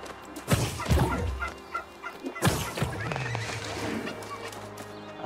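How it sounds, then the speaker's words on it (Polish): A turkey in the video game New World gobbling in sharp, loud bursts, with a couple of distinct calls separated by quieter rustling and ambient game sounds. "A weźmy, zbiorę sobie indyka."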